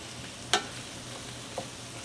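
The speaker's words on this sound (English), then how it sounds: "just saute this for 3 minutes" Beef sautéing in a pan for ossobuco, a soft continuous sizzle with a sharp clink of utensil on the pan and a fainter stir shortly after.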